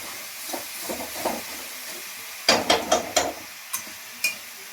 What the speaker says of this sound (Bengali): দিয়ে আমি একটু ভালো করে নেড়ে নেবো